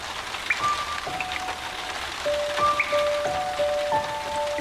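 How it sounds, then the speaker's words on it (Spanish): Steady rain falls onto a surface, a dense continuous patter close by with no talking, overlaid by a few brief high tonal chirps. "Y si pudieras oír el verdadero sonido de la lluvia"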